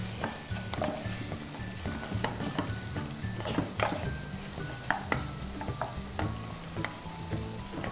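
Curry powder frying in a hot pan for Singapore-style rice noodles, a steady close sizzle with repeated clinks and scrapes of a spatula against the pan.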